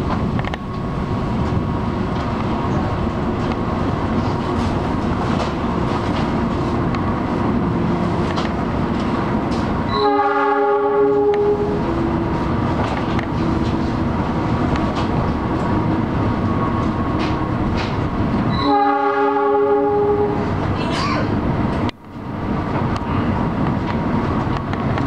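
The KA Argo Lawu express train pulls into Solo Balapan station, a steady loud rolling rumble heard from inside, broken twice by a short stepped chime announcement and a brief thud near the end.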